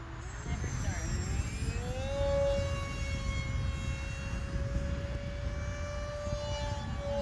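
A Hobbyzone Aeroscout RC plane flies a loop overhead, its electric motor whining in a rising then steady high tone that carries across the sky, moderately distant, with wind noise underneath.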